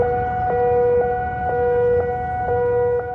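Wailing civil defense siren sounding over an area after an attack on the US embassy in a high-security green zone, a steady loud tone pulsing at regular half-second intervals.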